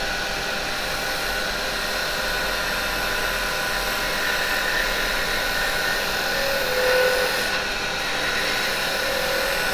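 A woodturning lathe spins steadily while a turning tool takes a light cutting pass to clean up the piece, a continuous loud whirring hum with faint high scraping, without speech.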